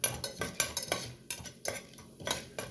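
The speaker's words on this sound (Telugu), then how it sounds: "మినపప్పు కొంచెం వేగాలి." Urad dal tempering in hot oil inside a pressure cooker on the stove, a metal spoon scraping and clinking against the pot in quick irregular strokes, close and distinct.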